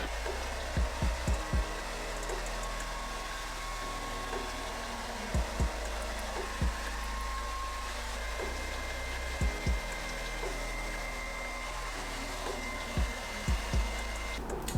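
A hair dryer blows steadily and close throughout while drying curly hair bundles, its constant airy roar broken by a few soft taps and knocks.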